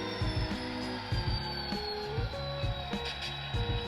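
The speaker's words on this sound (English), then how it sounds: "As you can see, locomotive starting up." An HO scale DCC Southern Pacific model locomotive starts up with a quiet, steady electronic diesel sound loop, a low rumbling hum with rhythmic chuffing pulses and faint clicks throughout.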